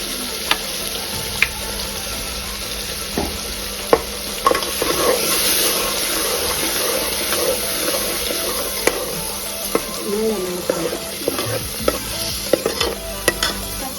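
Frying in ghee for a Hyderabadi-style leg soup, a constant close sizzle with spoon stirring and scattered sharp metallic taps against the pot, fairly loud and without voices.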